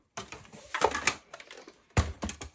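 A die-cutting machine feeds card stock through its rollers, giving a short run of mechanical clicks and ratcheting thumps, pausing briefly and then resuming for a final burst, close and moderately loud.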